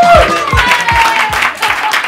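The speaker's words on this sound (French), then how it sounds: "Les amis, applaudissez pour Archidique, s'il vous plaît." A comedy show audience claps in a steady rhythmic beat, the claps close and sharp and repeating about twice a second, with voices talking over them.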